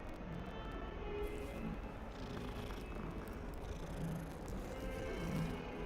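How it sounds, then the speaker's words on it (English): A cat purring in the video game Hogwarts Legacy, a close, steady, continuous rumble over faint background game ambience. "Whose cat is this?"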